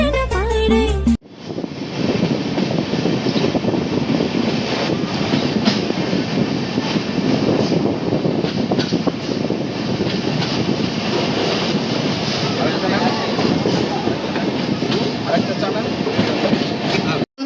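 The Sealdah–Jalpaiguri Humsafar Express passenger train runs on rails with a loud, continuous rumble and rattle from close by, clickety-clack from the wheels running through it after a brief opening sound.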